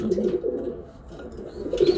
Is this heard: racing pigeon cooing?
yes